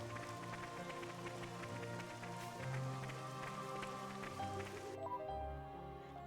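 Rain falls in Xenoblade Chronicles 2: Torna, a soft continuous patter mixed with quiet game music, the high hiss cutting off abruptly near the end.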